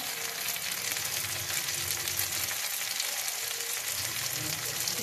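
Tomatoes tipped into a pan of fried onions and stirred, giving a steady, close broadband sizzle with scraping under it that holds for the whole stretch, with no voices.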